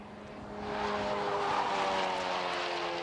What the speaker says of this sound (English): you can really hear pushing the tyres to the limits there with that car